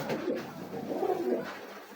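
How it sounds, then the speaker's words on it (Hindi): A large Kalmand pigeon coos in a breeding loft in Gujranwala, giving a few soft, low, rounded calls close by and moderately loud, with no talk over them. "बड़ा कलमंद कबूतर है।"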